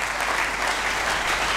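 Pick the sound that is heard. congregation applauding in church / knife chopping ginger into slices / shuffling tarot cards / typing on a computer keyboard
congregation applauding in church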